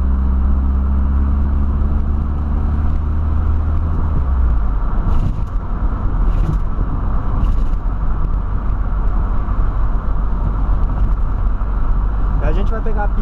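A VW Voyage fitted with a sport exhaust drives along, its engine producing a steady, loud low rumble throughout with no pauses or breaks.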